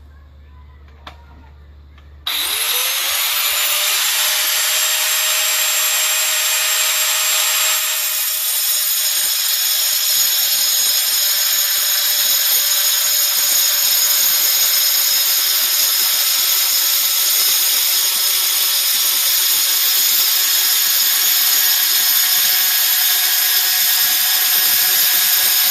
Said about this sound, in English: So we're using an angle grinder because we find that we get better control because these tiles are very porous.